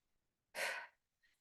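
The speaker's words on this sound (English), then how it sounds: "We'll exhale our air out to meet on empty." A single strong exhale breathed out in a quiet yoga practice, a breathy rush of air lasting about half a second, followed by a faint brief breath afterward.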